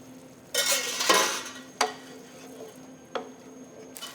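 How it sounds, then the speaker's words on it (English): Spoon stirring butternut squash risotto in a pan, soft scraping and sloshing strokes with a few sharp clicks against the pan over a low sizzle. "And we'll keep stirring."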